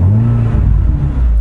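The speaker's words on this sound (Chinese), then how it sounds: "不知道现在你们听不听得到有一个 exhaust 的声音。" A Proton Satria Neo with a newly fitted exhaust pipe, its engine revving in a loud, close, deep drone that dips and rises briefly.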